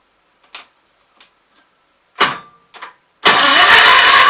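A Kohler K241 small engine is cranked several times in short, separate bursts with pauses between them, then catches and runs loud and steady up close.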